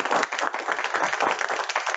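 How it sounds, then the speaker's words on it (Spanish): Audience applause at an Ibero-American forum on inclusive sport, a steady wash of many hands clapping, moderately loud and sustained without talk. "Fuerte el aplauso para..."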